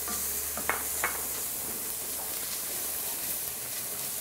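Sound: celery sweating with onion in a pan

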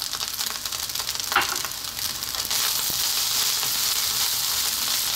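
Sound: stir-frying pork sausage fried rice with spring onion

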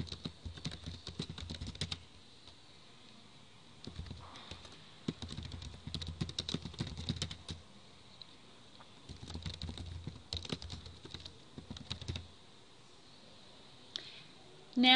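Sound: typing on a computer keyboard

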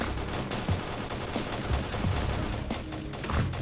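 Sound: gunfire in the video game Halo Custom Edition

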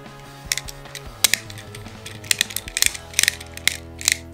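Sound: click of Beyblade Regalia Genesis energy layer turning

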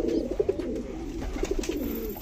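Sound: pigeons cooing

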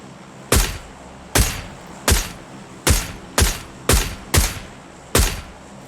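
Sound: gunfire in video game

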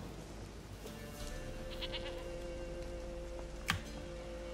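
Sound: goat bleating in video game The Witcher 3

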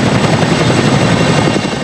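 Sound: firefighting helicopter at the Crozier Fire

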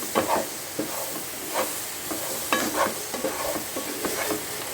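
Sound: stirring ivy gourd and potato stir-fry in a pan

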